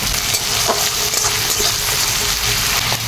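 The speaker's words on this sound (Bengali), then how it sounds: "এই কড়াইয়ে মাছের তেল আছে, এই তেলেই আমি পেঁয়াজ কুচনো দিয়ে দিচ্ছি।" Chopped onion frying in fish oil in a wok, a steady close sizzle that holds loud and even throughout with faint stirring scrapes and no voices.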